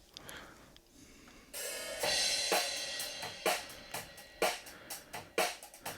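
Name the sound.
drum kit recorded through overhead Neumann microphones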